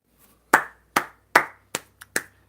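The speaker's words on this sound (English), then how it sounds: "We need a round of applause for this dude right here." Six separate sharp hand claps from one or a few people in a quiet room, spaced at roughly half-second intervals with brief decays between them.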